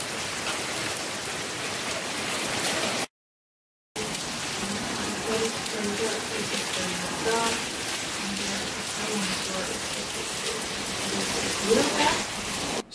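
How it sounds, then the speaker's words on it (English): Steady, dense rain falls and patters on surfaces close by, a continuous hiss broken by a brief dropout, with faint voice-like sounds at moments. "I love the rain."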